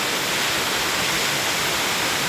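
Tenogtog waterfall at Mayoyao, Ifugao, a tall fall over a wide pool, pouring in a loud, steady, unbroken hiss of water.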